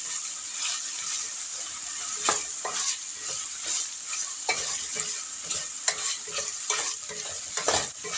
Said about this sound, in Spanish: Esto lo vamos a sofreír más o menos por unos 3 o 4 minutos, que la salchicha está bien sofrita